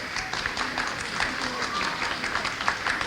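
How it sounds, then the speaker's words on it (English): An audience at an elementary school spring music program applauds with dense, continuous clapping that fills the room, with crowd voices mixed in. "give yourself a big round of applause, because you did awesome this year."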